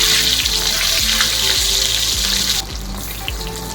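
Pointed gourd (kakrol) pieces fry in hot mustard oil in a kadai, a loud, steady sizzle with rhythmic scraping of a spatula, dropping slightly softer near the end.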